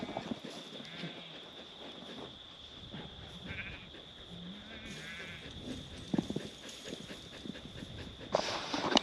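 Sheep on an Australian farm during lamb shearing bleat faintly a few times, mixed with panting working dogs, under quiet low background noise and a steady high whine.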